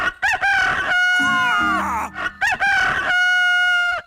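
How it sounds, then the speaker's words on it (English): A cartoon rooster crows loudly twice in long, bright cock-a-doodle-doos, with lower clucking and chicken squawks between the crows. "What are those chickens doing here?"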